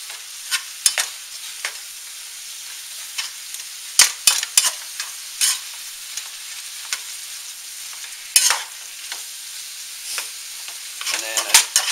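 Ground beef seasoned with chili powder cooks in a pan as it is stirred and broken up, producing a soft sizzle punctuated by sharp, irregular scraping and tapping strokes up close, with no speech.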